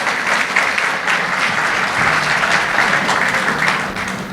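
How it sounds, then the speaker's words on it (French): Vigorous, sustained clapping from the audience at the JCI Guinea awards dinner, loud and close, holding steady before easing slightly at the end. "Sous vos applaudissements, s'il vous plaît."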